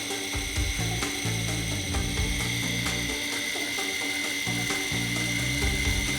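A 775 DC motor runs smoothly with a steady, high-pitched whirring hum and a faint rattling grind underneath, holding at an even level throughout.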